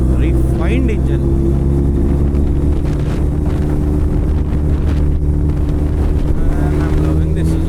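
A Suzuki Hayabusa motorcycle engine drones at highway speed on the road from Hyderabad to Bangalore, a loud steady hum thick with wind roar, with a rider talking over it.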